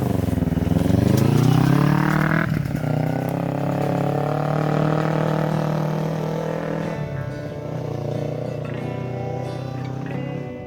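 A Kawasaki Ninja 250 engine in a go-kart revs up loudly, climbing in pitch for about two seconds, then settles into a steady, close drone as the kart drives off.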